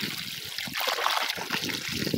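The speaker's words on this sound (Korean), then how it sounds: "드러낸 만큼 또 물을 가득 채워둡니다." Water is poured to refill a container of sesame-meal liquid fertilizer in a vegetable garden, making a steady close trickling and splashing flow throughout.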